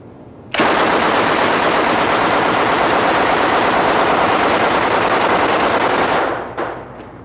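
A 1928 Thompson submachine gun fires one long, sustained, very loud burst outdoors at a range. It lasts about six seconds before cutting off, followed by a brief clatter.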